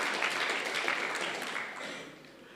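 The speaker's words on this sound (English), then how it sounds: "let us give them a warm round of applause for pulling this together" Applause from a lecture audience at a public university lecture, thanking the organizers; a steady, fairly faint wash of clapping that thins out toward the end.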